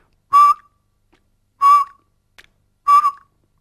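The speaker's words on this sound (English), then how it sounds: "What I want you to do is whistle and then smile and alternate this." A person whistles short single tones as an embouchure exercise: three clear, similar notes spaced evenly with quiet pauses between them, close and alone.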